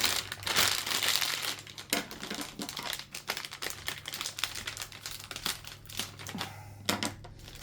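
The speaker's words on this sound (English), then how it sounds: "Cut away some of this bag as well." A plastic piping bag for royal icing is cut, giving close crinkling and sharp snipping clicks in an irregular series throughout.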